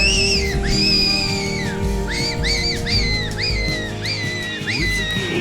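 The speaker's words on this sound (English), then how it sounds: "The boys are giving it a fair crack on the whistle." Whistle calls blown repeatedly on a windy hill over a strong gusting wind roar, a string of rising and falling shrill tones that comes in short phrases.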